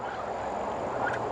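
Turkeys gobble on a farm in a brief, moderately close burst of rapid, warbling calls.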